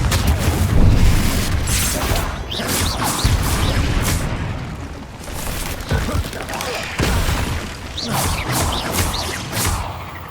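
Confringo blasting spells explode repeatedly in Hogwarts Legacy, a series of loud booming blasts and crashes with whooshing bursts in close succession, and a voice speaks between them.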